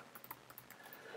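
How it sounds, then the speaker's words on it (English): Soft, quick keystrokes on a computer keyboard, typed close but faint in a quiet room, forming an irregular patter of light clicks. "So here you just type your first name."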